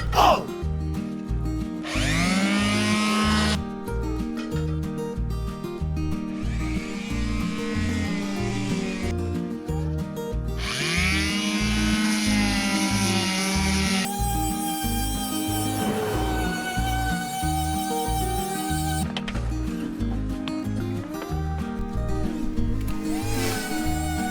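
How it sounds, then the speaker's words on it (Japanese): A mini sander grinding hardened polyester putty during camper van repair work runs in long stretches, its motor whine rising and falling as pressure changes, heard close with gritty abrasive scraping and no speech. "ポリエステルパテが固まったのでミニサンダーで削っていきます。"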